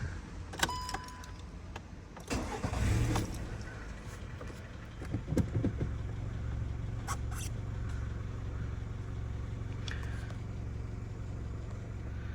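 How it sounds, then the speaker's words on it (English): A VW Golf Mk6 engine cranks and catches after a spark plug change, then settles into a steady low idle hum, preceded by a few clicks and clunks. "let's just turn the car on now"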